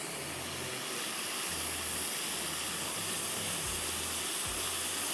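Red onion dropped into hot oil while cooking mahey kaliya gives a steady, loud, broadband sizzle that keeps going without a break. A low hum from the stove runs underneath.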